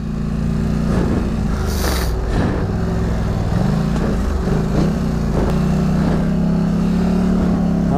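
Polaris Scrambler 1000 ATVs riding off-road, a loud, steady engine drone close by, with pitch rising and dipping as the throttle shifts over rough ground.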